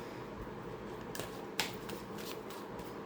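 Tarot cards being shuffled and drawn at close range, with soft riffling and a few sharp flicks and snaps over a steady background hiss.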